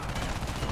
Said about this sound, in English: This mounted machine gun owns.